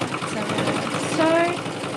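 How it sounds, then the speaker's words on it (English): A sewing machine stitching a quilt binding runs in a steady fast mechanical chatter, close and continuous, with a faint whine partway through. "And I'm going to start sewing."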